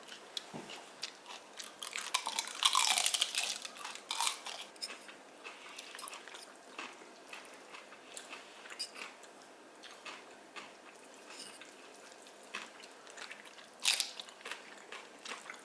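Someone chews and crunches through a vegetable-topped one-pan dish at close range, soft repeated bites and mastication continuing quietly with no talk over them.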